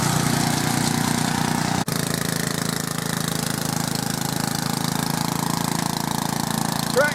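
A Briggs and Stratton garden tractor engine running steadily after a carburetor rebuild, a loud, even mechanical chug with one brief dropout near the start, with no talking.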